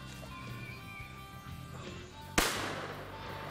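A single sharp gunshot cracks out at mid-clip during a squirrel hunt in Holmes County woods, a loud broadband blast with a short echoing tail over quiet outdoor ambience.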